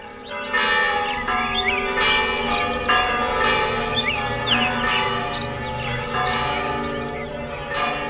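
Church bells ring across London, a sustained overlapping peal of repeated strikes with rich ringing tones, while birds chirp faintly in the background.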